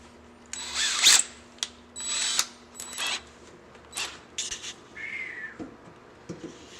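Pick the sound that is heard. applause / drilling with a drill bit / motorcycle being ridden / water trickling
drilling with a drill bit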